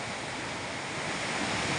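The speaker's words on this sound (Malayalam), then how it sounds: "ആ പുഴ ഒഴുകുന്ന ശബ്ദം തന്നെ കേട്ടാൽ പോരെ" Steady rushing of the Bhavani river near its source, a continuous broadband wash of flowing water with no talk over it.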